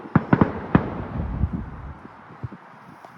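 Bonfire-night fireworks bursting in the night sky, a cluster of sharp cracks and pops followed by scattered fainter bangs, moderately distant with no talk over them.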